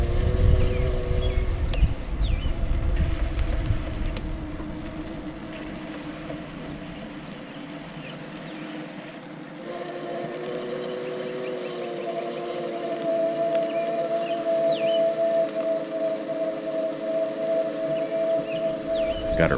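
Small boat's engine running at full throttle, a steady droning hum with tonal whine that dips briefly then rises again, wind buffeting the microphone throughout.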